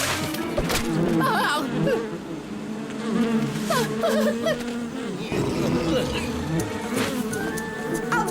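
Swarming bees buzz loudly and continuously in a cartoon jungle chase scene, a dense insect drone with voices shouting over it.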